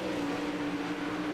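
A racing boat engine roars loud and close at the start of a heat race, holding a strong steady drone before cutting off abruptly at the end.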